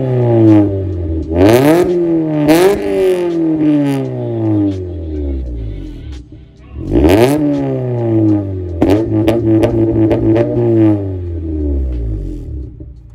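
A Honda Integra DA9 fitted with a junkyard Greddy SP2 catback exhaust is revved repeatedly, loud and close, each blip sweeping up into a raspy roar and falling back to idle, with a longer burst of revs near the end.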